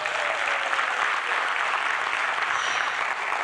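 Audience applause at a Cameroonian diaspora business event in Paris, a dense steady clapping from a large crowd filling the room, loud and continuous throughout without letting up.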